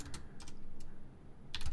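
A few scattered keystrokes on a computer keyboard click softly and close by while a command is typed, with short pauses between the taps.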